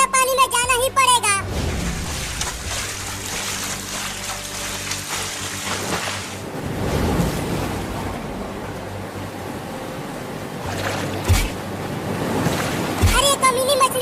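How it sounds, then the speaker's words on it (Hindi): Heavy rain with floodwater sloshing around a village house, a steady broadband wash that swells and fades, with brief louder splashes and a voice speaking over it near the start and end. "लेकिन मम्मी देखो ना अभी भी बारिश बहुत तेज हो रही है।"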